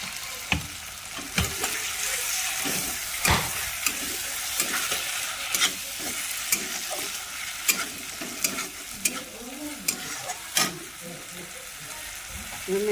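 Tomatoes and masala sizzle steadily in a pan for a bottle gourd curry, with a spoon scraping and clinking against the pan in frequent irregular stirs, close and with no talking.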